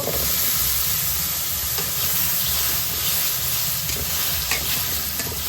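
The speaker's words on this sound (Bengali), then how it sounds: "মুখি কুসুটাও খুব ভালোভাবে কষে নিল" Mukhi kochu taro stir-fried with salt and spices in a pan for a hilsa curry gives a steady, close sizzle and hiss throughout, with soft stirring scrapes and no talking.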